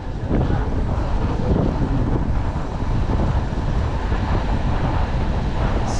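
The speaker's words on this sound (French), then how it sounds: "Il y a juste un petit vent pour pas avoir trop chaud." Steady wind buffeting the microphone while riding outdoors on a fine sunny day, a continuous loud low rush with no speech over it.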